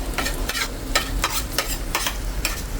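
Shredded chicken for chicken pastil is stirred in a sizzling frying pan, with about half a dozen evenly spaced scraping strokes over a constant hiss, heard up close.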